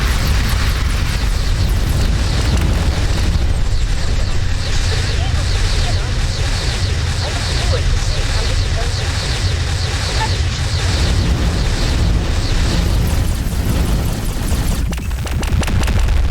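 Cruise missile explosions in the X4 Foundations space game: a loud, unbroken roar of heavy booming rumble with layered blasts, sustained throughout and easing slightly near the end.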